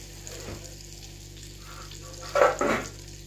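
Orzo-style lisan asfour pasta with vegetables fries in a pan with a soft, steady sizzle. Two short, louder bursts near the end come as it is stirred and flipped.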